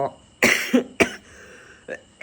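A man coughs in a few sharp, close bursts: two harsh coughs in quick succession, another soon after, then a short final hack after a pause.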